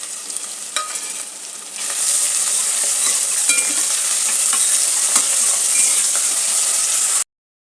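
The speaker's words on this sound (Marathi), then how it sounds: "ही मटणची चरबी आहे, ही देखील याच्यामध्ये फोडणीमध्ये आपण टाकून घेऊया." Cardamom, cloves and mutton fat crackle as they are tempered in hot oil for a mutton curry, a loud, steady sizzle with scattered stirring clinks after a quieter opening.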